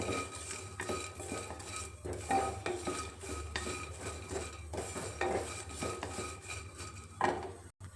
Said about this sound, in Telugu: వీటిని కంటిన్యూగా కలుపుతూనే ఉండాలి లేకపోతే మాడిపోతాయి